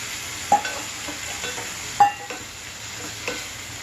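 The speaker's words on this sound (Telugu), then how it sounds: "అరగంట నానబెట్టుకున్న పచ్చిపప్పును వేసుకుంటున్నాను" Soaked chana dal goes into a frying pan with a soft steady sizzle, punctuated by three sharp metallic spoon scrapes against the pan, near and moderately loud.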